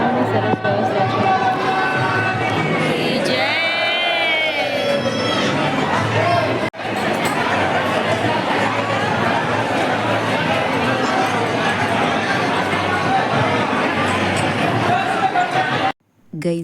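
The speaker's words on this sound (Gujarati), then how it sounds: "મંદિરમાં ભીડ હોવાના લીધે છે ને બહુ જ અવાજ આવી રહ્યો હતો બેકગ્રાઉન્ડમાં" Dense hubbub of a packed crowd inside the Salangpur Hanuman temple, overlapping voices and movement filling the space continuously, with a brief dip partway and a sharp cut near the end.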